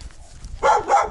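A puppy gives two short yapping barks close by near a flooded riverbank, after a stretch of quiet background noise.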